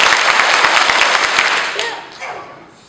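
School assembly audience clapping in unison, a run of sharp evenly spaced group claps, loud and close, before the claps stop and a voice is heard briefly.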